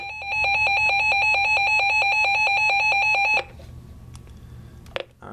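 Reecom R-1650 weather alert radio sounding its siren alarm: a loud, rapid pulsing electronic tone repeating steadily for about three seconds, then cutting off abruptly, followed by a quieter background and a brief click.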